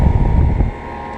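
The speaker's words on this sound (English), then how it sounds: "brand new Trane XR central air conditioners. This one has an Alliance compressor. There's one running right here." A new 2016 Trane XR central air conditioner with an Alliance compressor runs outdoors, giving a brief steady fan rush and low rumble, heavier at first and then easing.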